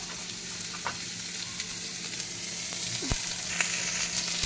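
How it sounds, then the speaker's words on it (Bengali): Onions frying in a pan for an Assamese puthi fish recipe give a steady, close sizzle with fine crackle throughout, with a few faint clinks and no talking. "পেঁয়াজটা ভাজা হলে ভাজা হবে"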